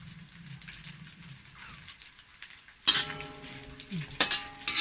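Shallots and garlic frying in a pan until crisp, a quiet sizzle that turns louder and brighter midway as the pan is stirred, with utensil scrapes clinking against the metal.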